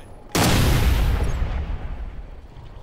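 A frag grenade explodes in Ghost Recon Future Soldier multiplayer: one sharp, loud close blast followed by a long rumbling decay that fades over a couple of seconds.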